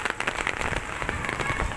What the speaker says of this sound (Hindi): बारिश फिर शुरू हो गई।